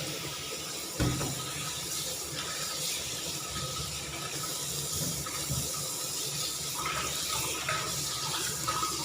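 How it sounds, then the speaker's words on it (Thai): Tap water runs steadily into a sink while raw duck pieces are rinsed before boiling, a continuous splashing stream with occasional louder splashes and knocks, no talking. "ก่อนเฮาสิต้มก็ล้างก่อน"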